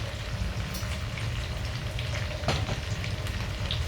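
Pork belly stir fry with oyster sauce and virgin oil being stirred in a pan: a dense, steady sizzle with a low rumble underneath and one sharp scrape of the utensil midway, close and without talking.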